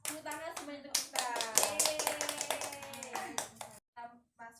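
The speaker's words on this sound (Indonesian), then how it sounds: "Tepuk tangan semuanya untuk kita." Children in an Indonesian classroom clap their hands together in sharp, close, rhythmic bursts, with kids' voices chanting and talking over the claps before the clapping breaks off into a few isolated taps and silence.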